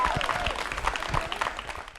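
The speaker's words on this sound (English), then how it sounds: "Let's give him another round of applause for being such a terrific fighter for us in Congress" Audience applause at an outdoor political potluck picnic in Arlington, following a congressman's remarks; dense, steady clapping from a crowd throughout the short stretch, with some background voices mixed in.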